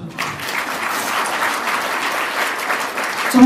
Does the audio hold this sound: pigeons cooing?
no